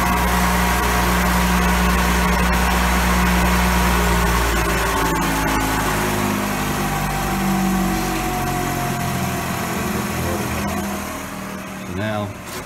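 A clutch floater resurfacing machine's table starts up and runs with a steady mechanical drone and hum, loud and close, easing off slightly toward the end.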